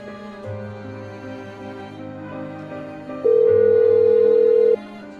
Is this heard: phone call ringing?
yes